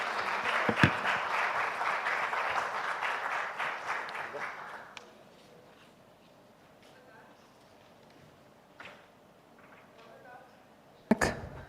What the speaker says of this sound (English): Mr. Mehta deserves a mighty round of applause